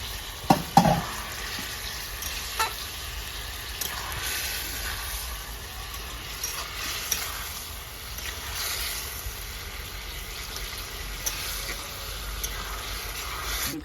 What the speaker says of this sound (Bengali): এবারে আমি পেঁপে আর আলু কষে রাখা দিয়ে দিচ্ছি